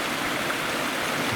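Bubbs Creek flows in a steady, dense rush of water, close and fairly loud, with no talk.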